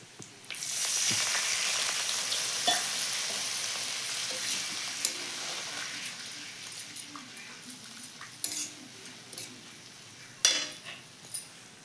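Ginger and garlic frying in a pan hiss with a steady broadband sizzle throughout, with a sharper burst when water is added, and a few clinks and scrapes of stirring near the end.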